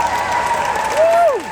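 An audience at a youth speaking event applauds with steady clapping and some cheering, fairly loud, while a voice carries over it.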